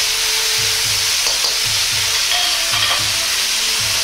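Bamboo shoots bubble and sizzle hard on high heat after oyster sauce and water are poured into the pan. The roar is loud and continuous, with small pops scattered through it.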